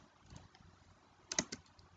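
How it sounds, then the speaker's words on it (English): Keys tap on a computer keyboard while an email address is typed, a few soft scattered clicks with a quick close burst of three or four keystrokes, faint and alone. "So I will type here the email of Ma'am Avila"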